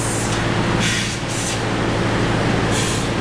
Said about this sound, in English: he just got up inside the frame rails with that and sprayed up inside it